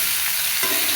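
Vegetables for a Bengali niramish curry, with stems, eggplant and soy chunks, fry in a hot pan with a steady sizzle. Close stirring scrapes through it briefly, and no one speaks.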